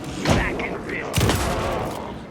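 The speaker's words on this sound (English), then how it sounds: "Anderson, pin him down with gunfire for me to get the light on him." Bursts of gunfire in the video game Alan Wake 2, two loud volleys about a second apart with a sustained rumbling tail and faint game voices mixed in.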